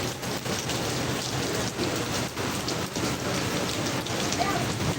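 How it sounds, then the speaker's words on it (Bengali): Heavy rain pours steadily in Gazipur, a dense, continuous hiss of drops drumming on surfaces, loud and unbroken throughout with no pauses. "গাজীপুর পর্যাপ্ত পরিমাণে ভরপুর বৃষ্টি হইতেছে"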